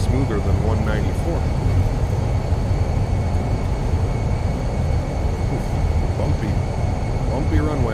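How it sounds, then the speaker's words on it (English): Airbus A320 landing with thrust reversers in a flight simulator, the Fenix A320 rolling out, a loud steady roar of engines and rumbling rollout noise, heard under a pilot speaking throughout. "Reversers, nose down gently, decelerating"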